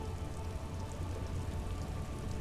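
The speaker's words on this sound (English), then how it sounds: "There are rain circles on water all around." Rain falls steadily on water in the video game Disco Elysium, a soft, even patter of drops with a low hum beneath, quiet and unbroken throughout.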